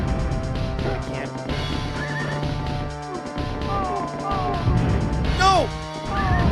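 Horse whinnying inside a chaotic video game, rising and falling neighs near the end over dense game music, crashes and effects, with someone talking excitedly throughout.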